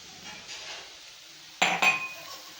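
Coarsely ground peanut powder being stirred into dill greens in a pan, faint soft shuffling followed by two sharp metallic clinks of the spoon against the pan.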